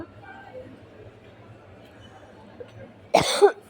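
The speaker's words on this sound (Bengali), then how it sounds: "হঠাৎ করে কাশি আসতেছি কেন" A person coughs a few times at the end, loud and close, after a quiet stretch of room noise.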